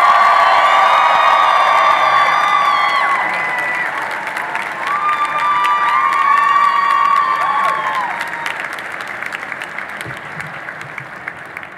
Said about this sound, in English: How about everybody give a round of applause for Mr. Dean Kamen?